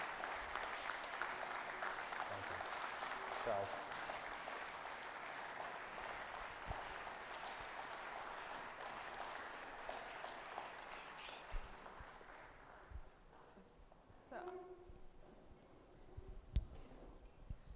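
An audience at a World Chefs Day event applauds for a long stretch, with dense clapping that gradually thins out and fades, followed by a few quiet spoken words and scattered small clicks.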